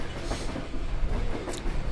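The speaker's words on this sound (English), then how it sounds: "my horn is not as impressive as the train's horn" Train in the video game Farming Simulator 22, a steady rumbling roll with rhythmic rail clatter and a brief high squeal near the end, fairly loud and close, no voices.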